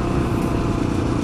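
An XR650L motorcycle engine fitted with a Quiet Core muffler insert, running at a steady idle with a continuous low, even rumble, close and fairly loud throughout.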